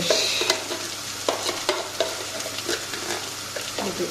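Onions frying in a pan as tomato paste is stirred in, with steady sizzling and sharp spoon scrapes every half second or so, close and fairly loud.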